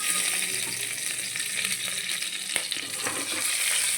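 Ingredients for fish biryani fry in a pan, a steady close sizzle with bright hissing and a few light stirring scrapes, continuous throughout with no voices.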